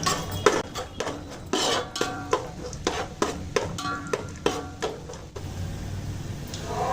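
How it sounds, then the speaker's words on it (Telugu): Cumin, mustard seeds and peanuts frying in a pan, rhythmic metal spoon scrapes and clinks over a low sizzle, close and repeated about every half second. "జీలకర్ర ఆవాలు వేసుకుందాము. పల్లీలు వేసుకుందాము. ఈ రెండు బాగా వేయించుకుందాము."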